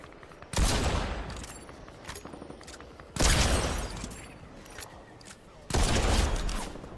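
Three loud bursts of rapid automatic gunfire erupt in a video game shootout, each volley close and booming before fading into clattering echoes.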